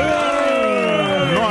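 A studio audience on a Brazilian talk show cheers and whoops in a brief, loud burst of overlapping voices, with light applause underneath.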